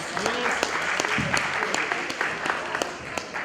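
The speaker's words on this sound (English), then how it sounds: "Let's have another round of applause for our state senator," Audience applause at a community Kwanzaa event honoring New York State Senator Bill Perkins, a steady wash of many hands clapping at moderate loudness with some voices mixed in.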